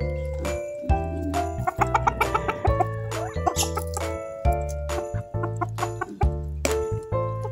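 Four Silkie chickens cluck close by in repeated short bursts over a steady tonal background, with a few louder calls between quieter pauses.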